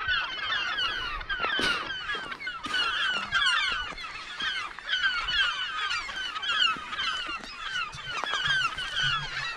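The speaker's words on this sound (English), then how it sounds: "crazy birds" A flock of birds honks constantly near a remote Lake Michigan lighthouse, loud overlapping calls from many birds at once with no break.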